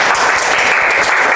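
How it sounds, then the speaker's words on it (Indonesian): Steady, dense applause from a classroom audience at a university teaching session, loud and close, a continuous wash of many hands clapping with no voices. "tepuk tangan untuk Zaidan"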